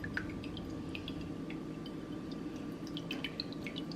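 White wine vinegar poured into a dilly potato salad dressing, with soft drips and small liquid splashes in a quiet kitchen, close and fairly faint.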